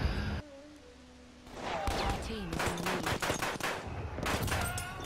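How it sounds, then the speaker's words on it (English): Kolibri pistol gunfire in the Battlefield 1 video game: rapid bursts of sharp shots crowd the middle and end of the clip, with a game soundtrack and effects in the background. "Another headshot Kolibri."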